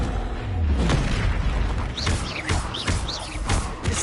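Confringo fire spell explosions in Hogwarts Legacy, a series of booming thuds and bursts over a rumbling game background, with a short whooshing chirp of magic between blasts.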